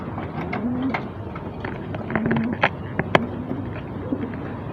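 Racing pigeons coo at a club derby loft, soft repeated low coos close by with scattered flutters and light knocks, no talking.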